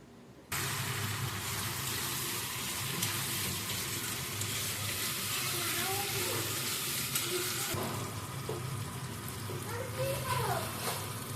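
Mutton frying in a pan, a continuous close sizzle with light stirring noises throughout, a voice speaking faintly underneath part of it.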